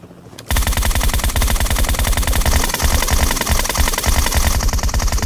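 Sustained rapid automatic gunfire in PUBG Mobile's Metro Royale mode bursts in abruptly after a quiet start, loud and close, a dense continuous rattle of shots with no voices over it.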